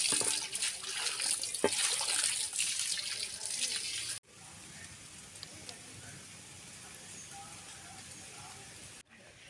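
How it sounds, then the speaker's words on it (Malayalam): Water pours into a cooking pot for biryani rice, a close splashing stream for about four seconds that then gives way to a quieter, faint trickle. "ബിരിയാണി അരി വേവിക്കാനായിട്ട് 2 കപ്പ് വെള്ളം ഒഴിച്ചിട്ടുണ്ട്"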